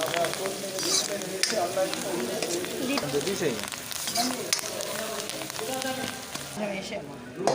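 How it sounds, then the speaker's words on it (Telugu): Turmeric and curry leaves crackle and sizzle in hot oil, a busy, spattering fry with stirring sounds and a voice talking over it. "పసుపు కరివేపాకు ఆయిల్లో మంచిగా అయితే వేసుకోవాలి"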